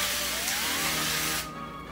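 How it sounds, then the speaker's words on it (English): Cooking spray hisses onto a nonstick tart pan in one loud, steady burst of about a second and a half, then cuts off sharply. "spray your tart pan"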